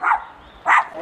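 A dog barks twice in a doorway encounter, with two short loud barks about half a second apart and quiet between them.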